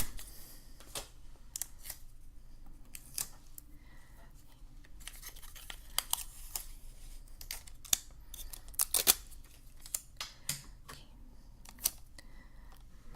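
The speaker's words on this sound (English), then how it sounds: "I'm going to get a couple pieces of tape." Scissors snipping pieces of clear tape while making a Möbius strip, heard as a series of crisp, close cuts and rustles at an irregular pace, with no talking.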